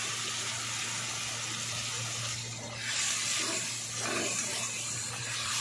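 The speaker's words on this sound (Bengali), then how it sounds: "ওইটা ধুয়ে জলটা দিয়ে দিলাম" Water poured into a pan of frying spices sets off a steady gushing hiss close up, which swells briefly in two waves and holds over a low background hum.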